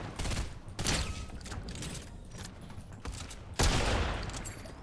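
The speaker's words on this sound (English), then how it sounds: "I can just keep hitting them with mammoth shots" Several loud pistol shots from the Mammoth pistol in Fortnite Chapter 5 ring out in quick succession at an irregular pace, with crisp, punchy reports close by and no voices over them.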